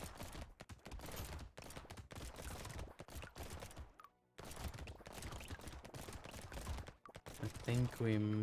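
Weapons firing in the arena shooter Brotato, a constant rapid patter of small shots layered thickly throughout, briefly dropping out once, then ending with a tonal jingle.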